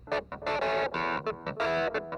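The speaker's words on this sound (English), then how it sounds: "Clavinet is here. It also has an analog delay added." A clavinet plays short, punchy funky chords and stabs through a MoogerFooger MF104 analog delay set for slap echo, each distorted note trailed by a quick single repeat, played alone.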